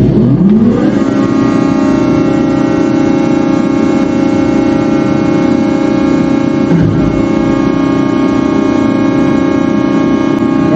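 A crane's diesel engine fired with a green start button cranks briefly, then settles into a loud, steady idle while the hydraulics circulate, the tone holding even and constant with one slight dip partway through.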